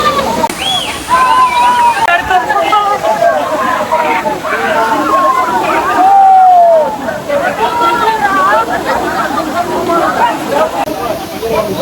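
Suruli waterfall in Theni, with water splashing and sloshing continuously, heard close and loud under a dense babble of crowd voices and shouting.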